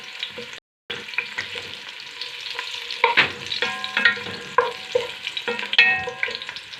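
Garlic sautéing in a pan while a wooden spoon stirs it, a light crackling sizzle with repeated knocks and scrapes of the spoon against the pan, close, with a brief dropout near the start.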